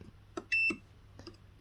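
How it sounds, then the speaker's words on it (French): A short electronic beep sounds once, sharp and clear, between a few faint clicks in an otherwise quiet room. "ça bip"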